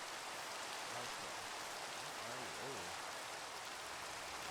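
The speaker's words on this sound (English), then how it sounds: "Right now it's gonna rain." Steady, even rain falls in a video game. A constant soft hiss continues throughout, with faint low tones underneath.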